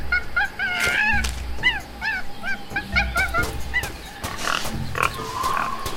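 Squealing, honking pig calls from the Tales of Monkey Island video game come in repeated short, bright bursts over a low rumbling background, fairly loud and without talk.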